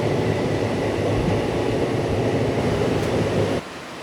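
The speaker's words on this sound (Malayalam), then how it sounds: "അപ്പോൾ അങ്ങനെ കേരള എക്സ്പ്രസ് വന്നു." The Kerala Express passenger train rushes past on the line in a loud, dense rumble of rolling wheels that stays steady, then cuts off sharply to quieter background near the end.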